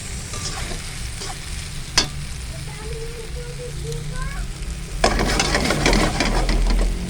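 Sliced bananas frying in a small amount of oil in a pan, a steady close sizzle that swells louder and denser after a sharp clatter partway through, with a voice speaking briefly over it.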